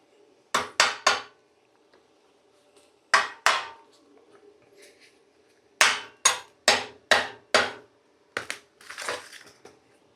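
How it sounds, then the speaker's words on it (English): A cheap knockoff hammer strikes bare metal on an old trailer being rebuilt: sharp, ringing blows in bursts of two or three, then a run of five, each hit close and loud against a quiet background. "Again with our knockoff hammer."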